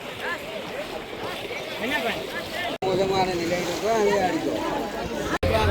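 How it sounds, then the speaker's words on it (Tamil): Racing boats with 40 horsepower engines line up before a boat race at Mathagal, Jaffna, their engine drone steady and close beside the water, with people talking over it throughout. "அடுத்தது வந்து 40 ஹோர்ஸ் பவர் இன்ஜின் பட ஓட்ட போட்டி"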